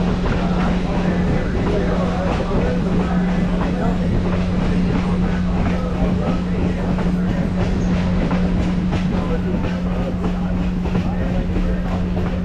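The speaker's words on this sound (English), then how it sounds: "This bend, you couldn't see the train from end to end, wrapped around." Great Smoky Mountains Railroad excursion train rolling through the Nantahala Gorge, a steady loud rumble of wheels on track with a constant low hum and faint rhythmic clicking throughout, no clear talk over it.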